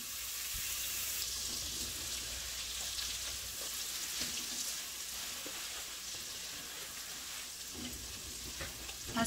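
Garlic sizzles steadily in hot oil with butter in a pan, a close, continuous crackling hiss that holds at an even level throughout with a few brief stirring knocks and no talk.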